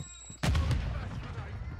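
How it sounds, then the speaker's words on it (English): Gunfire booms from a first-person shooter video game, one sharp loud blast with a rumbling tail, under players' voice chat. "I think these pistols are glitched out now, cause everybody's keep using pistols."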